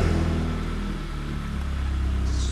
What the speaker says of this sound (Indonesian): suaranya terdengar normal-normal aja ya, jadi idle pun nggak susah, crankingnya juga tidak panjang